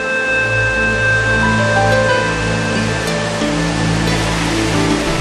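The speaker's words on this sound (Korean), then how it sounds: "这是我们黄河啊，很壮观的河" Rushing water of the Yellow River in China, a steady, loud and dense roar that continues unbroken throughout, with no voices heard.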